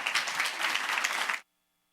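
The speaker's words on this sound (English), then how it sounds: "One last round of applause" A conference audience applauds a senator after his speech, a dense, loud wash of clapping that cuts off abruptly into silence.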